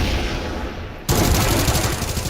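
Rapid gunfire is shot through a wall in Breachers, a tactical shooter, with loud, close automatic bursts that cut in suddenly after a second of noisy background and then keep hammering in quick succession.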